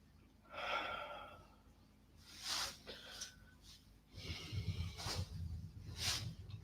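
Deep, audible breaths during a yoga standing forward bend, close to the microphone, with several slow inhales and exhales separated by brief pauses and no talking.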